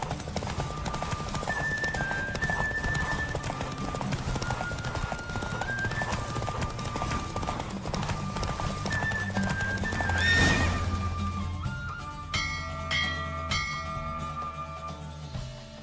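Horse hooves clip-clop rapidly during a race in The Witcher 3, with whinnies, bell-like tones and game music throughout, loud and continuous, a steady galloping rhythm carrying on to the end.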